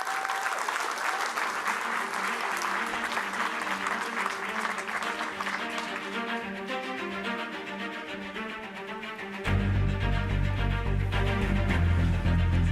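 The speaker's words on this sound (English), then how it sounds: "If you give them a round of applause, please." Audience applause for panelists brought on stage at a youth summit panel, a sustained dense round of clapping from a large crowd that swells louder near the end as music or a low rumble enters.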